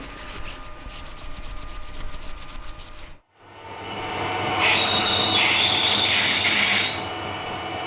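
A power drill grinds against tough EN24 steel, first with a strained, buzzing churn, then, after a brief stop, with a harsher, louder screeching bite.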